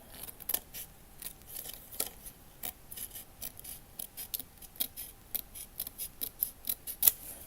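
Scissors snipping through paper for a miniature room box, a close, quiet series of crisp individual cuts in an irregular rhythm with no voices.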